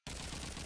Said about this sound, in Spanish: Y Matraca se baja a Goku con su MP44, viejo.